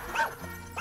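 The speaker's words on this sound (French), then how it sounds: "Méga distracto, petit chien arc-en-ciel." A cartoon puppy in a French animated action series gives two short, high yipping barks, one near the start and one at the end, close and bright with a brief pause between them.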